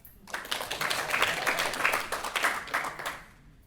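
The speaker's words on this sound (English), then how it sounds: "I give a hand clap for that." Applause from an audience at a vegan food festival talk, a dense patter of many hands clapping that swells for about three seconds and then fades out.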